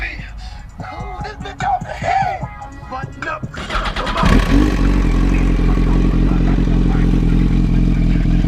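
A 2007 Yamaha R1 motorcycle engine rumbles nearby, with someone talking over quieter background at first. It is followed by a loud, steady engine roar that fills the rest of the clip.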